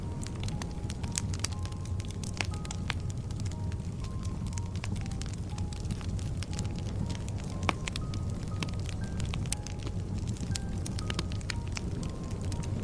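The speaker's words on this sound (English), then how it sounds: "The fire crackles softly" A campfire crackles softly under the night sky, with steady small pops and snaps scattered across a low, continuous hiss, close and even throughout with no voices.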